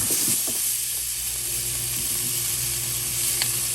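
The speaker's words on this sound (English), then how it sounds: "We're just going to cook these onions just a little bit." Onion rings frying in oil in a pan, a steady close sizzle and hiss throughout with a few faint clinks of utensils, no talking.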